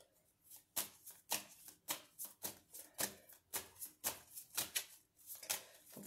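Tarot cards being shuffled and drawn by hand, a rapid series of close, crisp riffling and slapping bursts in an irregular rhythm, quiet overall with no talk.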